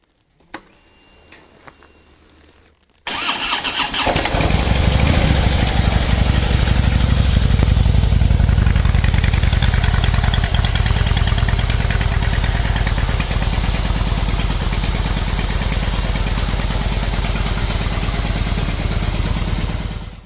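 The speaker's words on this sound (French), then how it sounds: "Voilà, la moto est prête." A motorcycle engine starts after a few seconds of quiet handling noise, then idles loudly and steadily with a rough, throbbing rumble.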